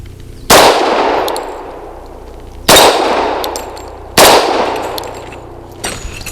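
A Bersa B1911 pistol fires 230 grain PMC Bronze rounds outdoors, with three loud, sharp shots about two seconds apart, each followed by a ringing decay, and a fainter impact near the end.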